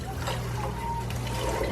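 Tap water runs steadily over kale greens being rinsed in a kitchen before going into a chicken and rice soup, a continuous close trickle and splash with no pauses.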